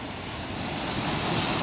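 Sewage water churns inside a chamber at a sewage works, making a close, steady rushing and sloshing that swells slightly over its short length.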